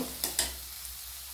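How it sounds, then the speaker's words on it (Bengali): Spices frying in a pan with a splash of water for a soyabean dopiaza, two quick stirring scrapes over a soft, steady sizzle close by. "দিয়ে মশলাগুলোকে খুব সুন্দর করে আমি কষিয়ে নেব।"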